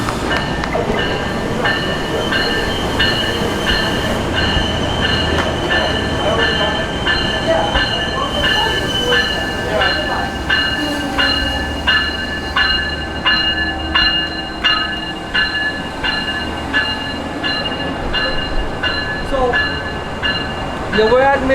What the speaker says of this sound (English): there's a Mineola train coming in. This is the test train